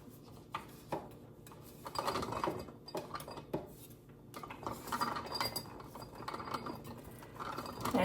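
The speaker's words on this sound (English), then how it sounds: "I'm going to start adding the ingredients that I've already prepared right here, which that is the horseradish root and onion" Prepared horseradish root and onion pieces dropped through a funnel into a jar, giving a run of light clinks and clattering knocks against glass and metal, fairly close and moderately quiet with no talking.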